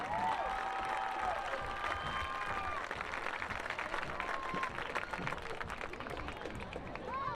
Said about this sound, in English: Let's give a round of applause to all the members of the 2024 homecoming court.